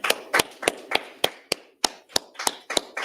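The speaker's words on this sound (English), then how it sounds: "Let's go ahead and clap it up, man." A handful of people clap in a slow, irregular run of about eleven sharp claps over three seconds, close and fairly loud, after a sound check at a gathering.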